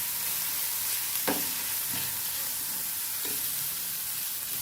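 Ingredients are mixed and fried in a pan: a steady, loud sizzle of hot oil runs throughout, with a few soft scraping stirs of a spoon against the pan.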